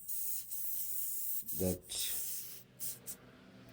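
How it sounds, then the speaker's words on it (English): Quick-strip paint stripper sprays from an aerosol can onto the painted metal castings of a small toy gas pump, a steady close hiss with brief breaks, under a few faint words of talk. "here am I using my quick strip from an aerosol can to get rid of the paint"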